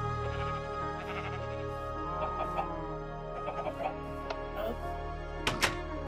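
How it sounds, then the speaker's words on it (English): Sheep bleat in a Minecraft-style video game, a few short calls spread through the scene over a steady hum of game background, with no talk in the moment. "why my sheep like to spawn in my houses?"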